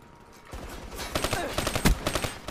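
Burst-fire XR2 rifle shots from Black Ops 3 gameplay, sharp repeated cracks in quick clusters growing louder after a quiet start, with a heavy boom near the end.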